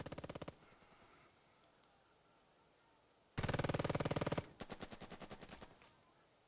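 Rapid machine-gun bursts in the wartime strategy game Burden of Command rattle out in short, loud volleys: a brief opening burst, a quiet pause, then a long intense rattle followed by a slightly softer stuttering string of shots.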